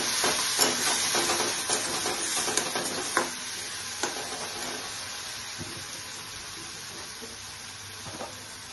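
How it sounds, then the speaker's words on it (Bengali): A Bengali egg curry with black and white mustard sizzles and hisses in the pan as coconut paste goes in and is stirred, with spoon clinks and scrapes over the frying noise that eases slightly toward the end. "তার মধ্যে একটু নারকেল পেস্ট দিচ্ছি"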